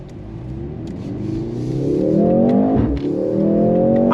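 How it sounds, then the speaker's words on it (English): A 2024 Mercedes-AMG GLC 43 on a wet track accelerates hard, its engine note climbing loudly through the revs with a brief dip and crackle partway before pulling again. "I love the pop out of the exhaust."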